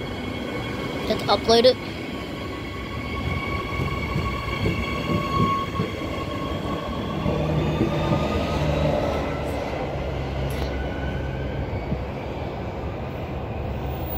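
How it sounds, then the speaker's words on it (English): An electric multiple unit train rumbles out of Currambine station on a Perth service, its low drone swelling and then easing as it pulls away, with a brief spoken remark near the start. "EMU 55 is now leaving platform 1 for a Perth service."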